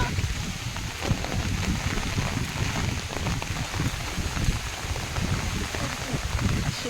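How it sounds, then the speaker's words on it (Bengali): Heavy rain and wind pour down along a road in Chakdaha, a dense, steady roar of drops and gusts that stays loud and even throughout with no voices. "খুব বৃষ্টি হাওয়া"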